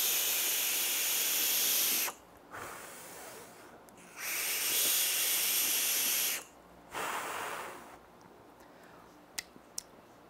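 A SMOK Scar 18 vape tank fired at 75 watts with airflow half closed gives three bursts of steady airy hissing from close by, each about two seconds long. Soft clicks and quiet gaps fall between the bursts.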